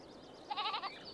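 A single short bleat from a goat in a farm pen, a wavering nasal cry heard fairly close and clear over soft background noise.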